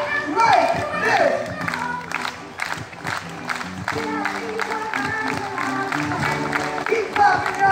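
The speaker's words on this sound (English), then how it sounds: "Everybody, clap like this." An audience of children claps their hands together in steady, continuous clapping that runs throughout, mixed with crowd chatter and an adult voice leading them.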